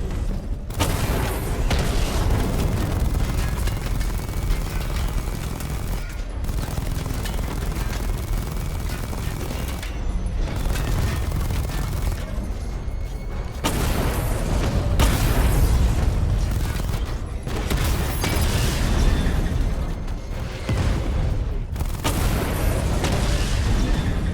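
Batmobile secondary weapon barrage from Batman: Arkham Knight firing in a game simulation, a dense loud continuous roar of booms and bursts with brief gaps between volleys.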